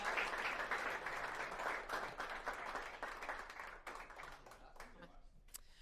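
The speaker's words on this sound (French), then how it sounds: "On l'applaudit bien fort, s'il vous plaît." An audience applauds the master of ceremonies at an evening match game show, a dense wash of clapping that starts loud and gradually thins and fades over several seconds, with no talk over it.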